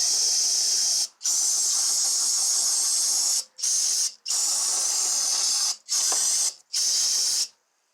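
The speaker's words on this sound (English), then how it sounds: "just to blow some brake cleaner in there to get that cleaned off" Brake cleaner sprays into the engine bay of a VW Passat 2.5 in loud, close hissing bursts, six or seven spurts of varying length separated by brief pauses.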